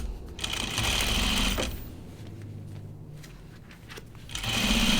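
Sewing machine stitching a vinyl bag, whirring steadily up close, slowing around a pivot at a corner before speeding up again, with no speech.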